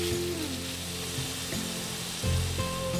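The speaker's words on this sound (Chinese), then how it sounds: "将鸡肉炒半熟后，加入虾、蘑菇和洋葱一起炒" Chicken stir-fries in a pan with shrimp, mushrooms and onion, giving a steady, close crackling sizzle that runs the whole time beneath background music.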